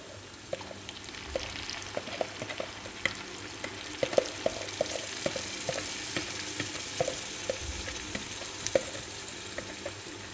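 Meat frying in oil with nihari masala and yogurt, a steady soft sizzle with repeated scraping stir strokes close by.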